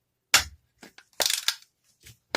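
A BB gun fired at point blank range into a target gives a sharp, loud crack, followed by a few quieter clatters and ticks, close by with no talk.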